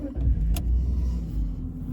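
A BMW E46 325 Ci Coupe on a test drive, its engine giving a steady, loud low rumble with a faint brief whine, with no talk over it.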